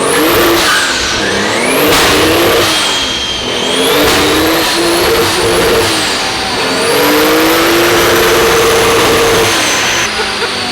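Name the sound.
Toyota 2JZ engine revving on a dyno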